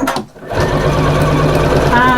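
A sewing machine with a dual feed foot stitches a large fabric bag, its loud rapid mechanical whirr running steadily after a brief pause at the start, with a person speaking briefly over it.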